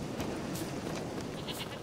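A goat bleats in The Witcher 3, a few short wavering calls over a steady background bed of game ambience, fairly close.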